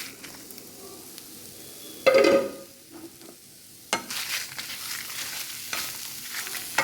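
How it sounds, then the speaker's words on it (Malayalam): Fresh chilies, coriander seeds and fenugreek are dry-roasted in a pan, giving a soft low sizzle with scraping stirs, a louder burst early on and steady rustling after, heard close with no talk. "ഇത് നമുക്ക് ഇതിലോട്ടിട്ട് നന്നായിട്ടൊന്ന് വറുത്തെടുക്കാം."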